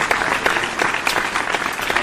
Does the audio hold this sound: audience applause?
yes